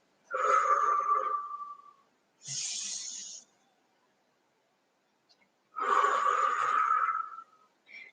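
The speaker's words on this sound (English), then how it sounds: "and breathing out." Slow, deep exhales during a pregnancy yoga session, loud and close, with three long breathy pushes of air separated by quiet pauses and a short hiss in between.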